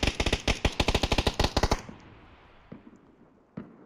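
In the video game PUBG, a rapid burst of automatic gunfire rattles close by for almost two seconds, followed by a few scattered single shots further off.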